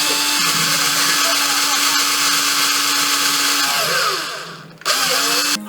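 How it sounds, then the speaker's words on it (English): A power drill bores holes into a baked clay sculpture, a steady loud whir running for several seconds, dipping briefly before restarting. "using my drill, I drilled some holes to add the ears and the tail"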